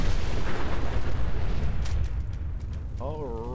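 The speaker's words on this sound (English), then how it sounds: "Oh, another car is gonna blow! Watch out!" A car explosion in the video game Fallout: a loud, rumbling blast roars and then fades, followed by a short rising-and-falling tone; no voices.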